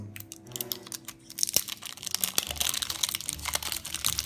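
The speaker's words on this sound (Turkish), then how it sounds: "Öncelikle etrafındaki poşeti çıkardım." A crinkly plastic wrapper is pulled off a Ninja Turtles surprise egg at close range, a dense run of crackling, rustling crinkles that keeps going and grows busier, with no talking.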